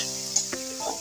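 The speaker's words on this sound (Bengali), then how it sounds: "এবারে ভালোভাবে নেড়ে চেড়ে কষিয়ে নেবো।" A chili-powder masala with a splash of water is stirred and fried in a pan, a soft continuous sizzle broken by two brief utensil scrapes close by.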